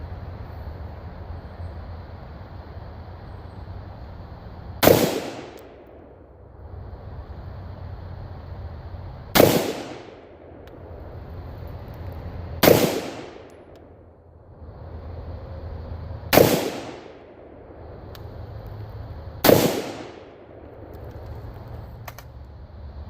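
Five sharp rifle shots fired through a BD2-556 muzzle brake crack out at irregular intervals of a few seconds, each loud and abrupt with a brief decaying echo over a low outdoor background.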